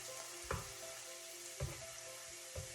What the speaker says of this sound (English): I'm going to add in my garlic.